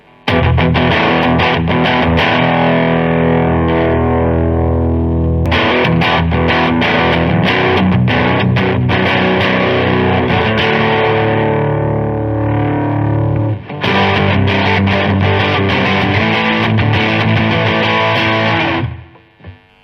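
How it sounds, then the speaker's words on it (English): Electric guitar played through a Vox VX15GT amp with heavy distortion, loud and continuous with thick low end, chugging chords and sustained notes, a brief dip near the middle and an abrupt stop at the end. "When we get into the more distorted end, you can really hear the bass that this tiny speaker provides."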